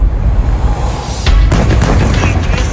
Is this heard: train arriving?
no